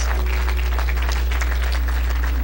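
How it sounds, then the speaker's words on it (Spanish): Congregation applauding during an evangelical church service, a dense, steady wash of clapping filling the space throughout, with a low hum underneath. "Nos dan un fuerte aplauso Rey de Reyes."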